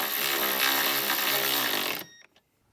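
A power driver whirs steadily for about two seconds, close and loud, fastening an 8mm bolt inside a 2024+ Jeep Wrangler's interior during a speaker install, then cuts off abruptly, leaving a couple of faint clicks.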